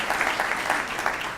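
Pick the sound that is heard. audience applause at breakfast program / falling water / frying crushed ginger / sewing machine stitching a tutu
audience applause at breakfast program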